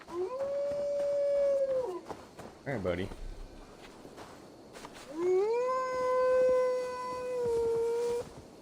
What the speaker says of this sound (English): I love the wolf howling sound.